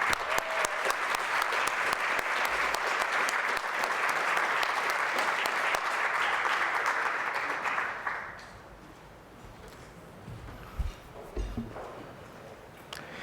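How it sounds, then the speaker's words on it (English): Warm, sustained applause from guests at an anniversary gala luncheon, a dense steady clapping for about eight seconds that stops abruptly, followed by quiet room sounds and a couple of soft thumps. "please give them another round of applause"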